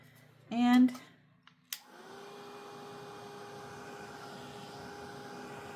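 A hair dryer blows on wet paint in a colour craft project, starting with a click and then running as a steady, moderate whir with a hum. A brief voice comes just before it switches on.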